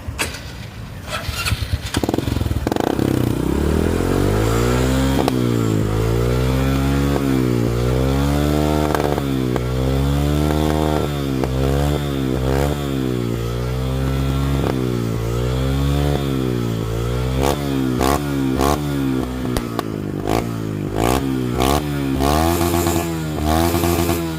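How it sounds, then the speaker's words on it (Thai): Honda Wave 125 LED motorcycle with a remapped ECU, started and revved repeatedly, loud and close, its engine note rising and falling in rhythmic blips before settling back to a rough idle. "เดี๋ยวเร่ง เดี๋ยวเร่ง"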